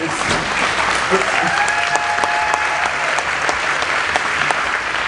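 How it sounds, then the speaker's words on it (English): Sustained applause from an audience at an X Prize presentation, a dense steady clatter of many hands clapping without pause. "you can go ahead and applaud it"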